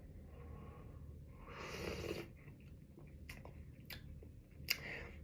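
A quiet, airy slurp of hot tea with sugar cubes and lemon juice, a single breathy intake in the middle, followed by a few soft clicks and sips.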